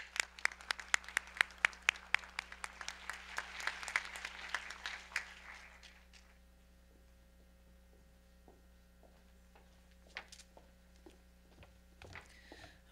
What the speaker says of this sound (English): Let's give this group another round of applause.